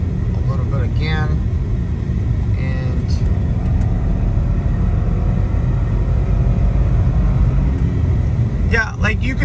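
A BMW with an engine malfunction causing reduced power, driving and accelerating at road speed, its engine and road rumble steady and loud throughout, with someone talking over it.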